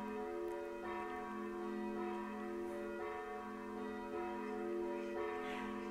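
Distant church bells toll with rich, lingering resonance, new strikes blending into the ringing hum at irregular intervals.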